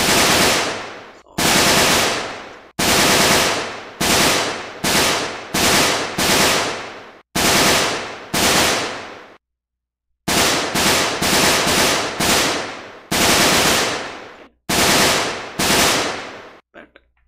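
An assault rifle fires in an Unreal Engine remake of GTA, loud sharp bursts of rapid automatic shots repeating one after another with brief pauses between them and one longer silent gap.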